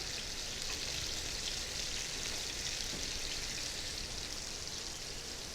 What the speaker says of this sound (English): let's turn our salmon over and look at how well we're getting a sear on that